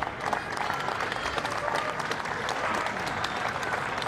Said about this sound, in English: The crowd are sensing that he needs his spirits to be lifted there. Just giving a little bit of applause.